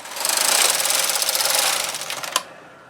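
A knitting machine carriage is pushed across one row of plain knitting, giving a loud, steady rattling whir for about two seconds that ends in a sharp click.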